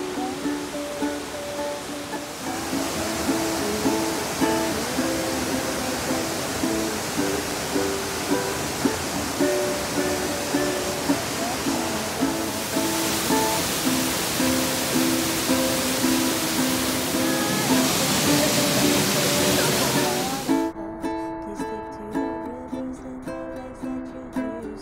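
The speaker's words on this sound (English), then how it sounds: "The next waterfall that we went to was the Bridal Veil Falls." Bridal Veil Falls, a 45-foot waterfall in Nantahala National Forest, western North Carolina, roars as a constant broadband wash of falling water, steady and close for the whole stretch, with a tonal melody layered over it.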